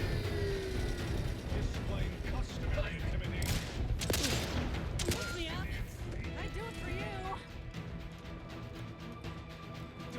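Gunfire and explosive bursts from the video game Outer Worlds 2, a dense fusillade of shots and crashes with a sustained battle rumble, mixed under game voices and electronic effects.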